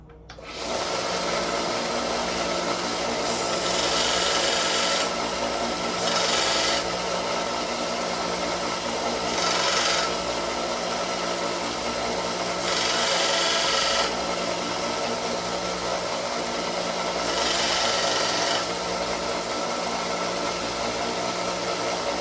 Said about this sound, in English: All right, we're gonna go sand that down now.